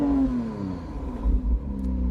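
A 2025 McLaren Artura's engine hums and then settles from a higher to a lower pitch in a smooth, steady growl, with a low rumble underneath, heard close from inside the car.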